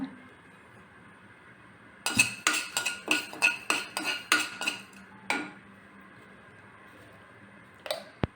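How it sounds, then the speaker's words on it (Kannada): Half a spoon of fenugreek seeds dry-roasting in a pan, stirred with a large metal spoon: a quick run of about a dozen sharp clinks and scrapes, then quiet and one last tap. "ಅರ್ಧ ಸ್ಪೂನು ಮೆಂತ್ಯೆ ಹುರ್ಕೊಳ್ಳೋಣ"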